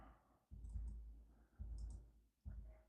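Keyboard arrow keys pressed while playing a browser game, three separate muffled clicks or thumps spaced about a second apart, faint and close, with quiet room tone between them.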